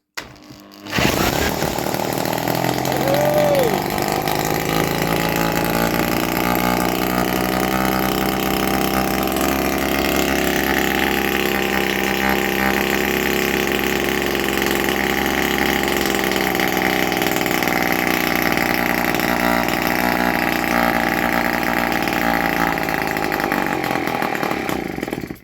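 A freshly restored 1959 NSU Quickly 26N moped engine fires and keeps running, a loud, steady buzzing two-stroke drone held close and unbroken for over twenty seconds, with no talk over it.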